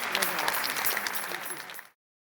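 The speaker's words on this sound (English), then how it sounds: "Give them all a round of applause, please." Audience applause at the close of a panel conversation, a dense steady wash of many hands clapping for about two seconds before cutting off abruptly.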